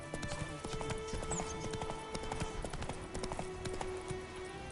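Roach's hooves clip-clopping in The Witcher 3 video game, a quick regular trot of sharp hoof strikes up close over a steady ambient bed, with no talk.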